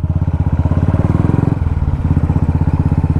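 Royal Enfield motorcycles on a 2021 group ride near Pune thump past close by, loud with a rapid, steady pulse of single-cylinder firing that shifts briefly mid-pass.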